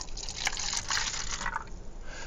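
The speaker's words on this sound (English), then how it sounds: "I'm going to pour it in there." Distilled water pours into a cup holding a drop of dish soap, a short close splashing gush that thins to a trickle.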